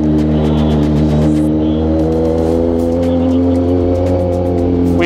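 Car and motorcycle engines idle and rev in congested weekend traffic near a roundabout on a highway ride from Bulacan to Baguio, a steady loud drone with rising revs throughout.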